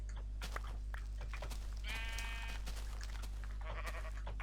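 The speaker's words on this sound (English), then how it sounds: "Got quite a few sheep here." Sheep in the Minecraft video game bleat in two short, wavering calls over a steady low electrical hum, fairly faint, with light clicking in between and no talking.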